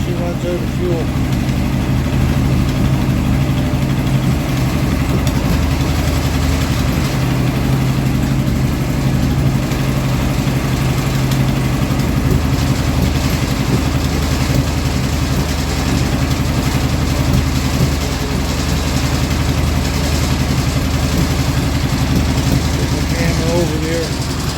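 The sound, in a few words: Royal Enfield Interceptor motorcycle engine idling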